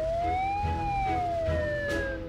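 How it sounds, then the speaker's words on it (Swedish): A video game ambulance siren wails steadily in rising and falling tones, moderately loud over a low background rumble, with no voices. "Anropar utryckande ambulans."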